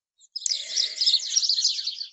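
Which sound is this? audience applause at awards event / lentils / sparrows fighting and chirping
sparrows fighting and chirping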